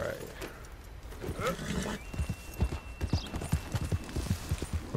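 A horse in Red Dead Redemption 2 clip-clops at a steady walk, hoofbeats starting after a short pause and continuing in an even, close rhythm.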